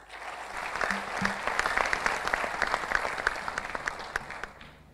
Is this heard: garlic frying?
no